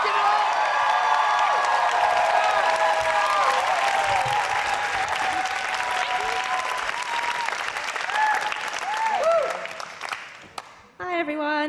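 A poetry slam crowd at the Roundhouse applauds and cheers, with whoops rising over dense clapping for about ten seconds before it drops away and a voice begins.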